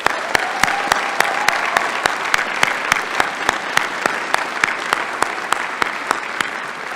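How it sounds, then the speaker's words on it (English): A commencement audience claps in a steady, dense round of applause, with several sharp, evenly spaced claps from one nearby person standing out above the broad wash of hands. "Please give them a hearty round of applause"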